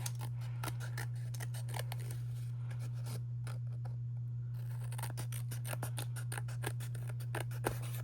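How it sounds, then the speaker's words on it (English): Scissors snip steadily along the edge of black card, trimming off paper scraps in a quick run of close, crisp cuts with a brief pause midway over a constant low hum. "you're just going to go along that black card and trim those scraps off."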